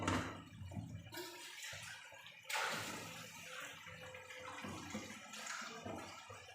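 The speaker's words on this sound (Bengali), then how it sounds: "আমি খুব সামান্য পরিমাণে একটু পানি দেব" Water poured from a vessel into a pan of taro stolons and prawns, a splashing trickle in a few bursts with pauses, close and fairly quiet.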